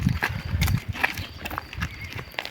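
A mare's hooves clop unevenly on hard ground as she walks with her foal, close by, with faint background noise between steps.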